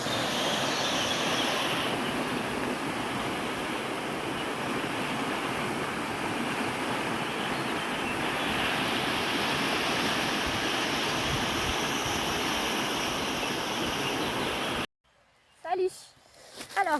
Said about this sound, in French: Je vais vous montrer à quoi ressemble la rivière à côté de chez moi.